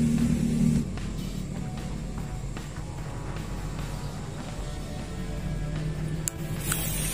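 A fountain firecracker burns beside a toy truck, giving a steady, rushing hiss of spraying sparks that carries on throughout, with a sharp crack near the end.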